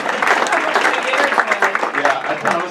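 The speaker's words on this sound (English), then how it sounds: "I think it deserves applause." Audience applause from a crowd of about 400 at a Book Passage bookstore talk, a dense steady patter of clapping that fills the whole stretch, with some chatter mixed underneath.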